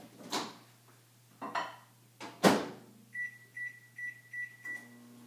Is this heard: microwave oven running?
yes